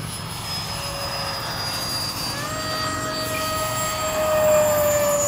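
RC model jets, an FMS F/A-18 and Freewing F-4s, fly overhead at an airfield, their ducted-fan whine rising and shifting in pitch as they pass, loud and steady throughout.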